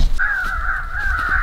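Crows caw during a crow hunt: a steady run of harsh, raspy calls, loud and fairly close, heard on their own with no talk.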